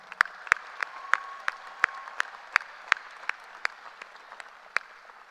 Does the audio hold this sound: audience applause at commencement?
yes